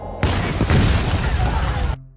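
A homemade bomb goes off in a film scene, a sudden loud blast followed by a roaring, crackling rumble with shattering debris that lasts nearly two seconds before cutting to quiet.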